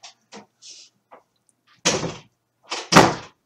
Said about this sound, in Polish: Nakrywam, zamknij drzwi.